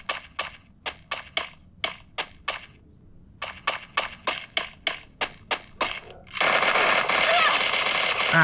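Sharp, evenly spaced gunshots from a mobile shooter game played on a Motorola Moto G23, two rhythmic runs of single shots separated by a brief pause, then a dense burst of loud noise at the end.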